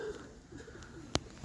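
Roller pigeons coo softly in a loft, a low murmuring coo near the start with faint rustling and a sharp brief click toward the end.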